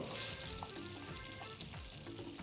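Thin-cut marinated fish pieces sear in hot oil in a pan, giving a steady, fairly quiet sizzle and crackle throughout with no talking.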